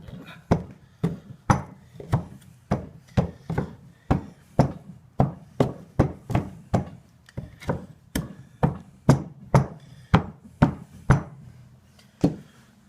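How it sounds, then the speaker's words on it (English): A hammer packs sand into a green sand mold with a steady run of sharp, woody knocks, roughly two per second, close and loud over a low background rumble. "Now we're going to take a hammer"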